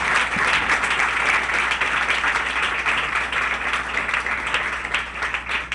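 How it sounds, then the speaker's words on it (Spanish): A church congregation applauds steadily and loudly, a dense, continuous wash of clapping with no pause. "Aplauda la gloria de Dios"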